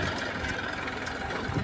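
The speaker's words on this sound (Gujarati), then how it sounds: "તો ભાઈ ટ્રેક્ટર આવતો એના હિસાબે હું ઊભો રહી ગયો." A tractor engine runs close by, a steady low mechanical rumble with a faint knocking pulse that stays even through the short moment, no talk.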